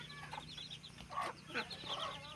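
A native desi hen clucks in a small poultry setup inside a house, a few short, bright clucks and murmurs coming close and moderately loud over a steady low hum.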